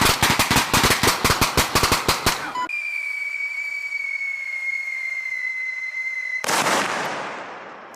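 A U.S. Army 6.8mm M250 machine gun fires a fast full-auto burst of sharp, loud shots, then a steady whistling tone holds before a final burst of noise.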